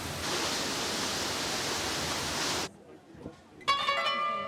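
Düden waterfall near Antalya, Turkey, where water from the Taurus Mountains falls toward the Mediterranean, gives a steady loud rushing roar for under three seconds, then it cuts to near silence and a brief tonal sound.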